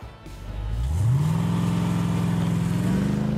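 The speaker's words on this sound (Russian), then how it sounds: "Это коричневый внедорожник." Cartoon sound effect for a brown off-road vehicle: an engine starting low, then revving up and holding a steady loud rumbling drone, close and alone with no voices.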